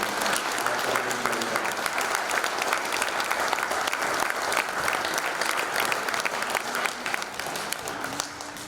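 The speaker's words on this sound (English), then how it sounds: "have us give another round of applause for all the coaches at every level" An audience at a hockey banquet claps steadily throughout, a dense, even applause at moderate distance with no one speaking over it.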